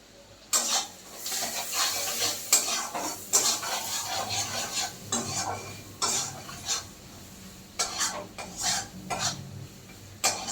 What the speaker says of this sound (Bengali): নুন হলুদ দিয়ে পেঁয়াজটাকে ভালো করে ভেজে নিতে হবে